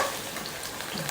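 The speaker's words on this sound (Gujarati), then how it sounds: "તો આ રીતે આપણે ભીંડાને તળી લઈશું." Okra frying in hot oil for a stuffed okra curry, giving a steady, continuous sizzle at moderate level with faint crackles and no voices.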